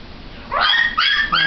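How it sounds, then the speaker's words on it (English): Shih Tzu and Shih Tzu–Poodle mix dogs give two or three sharp, high yips and barks close by, short and loud. "These are Shih Tzus,"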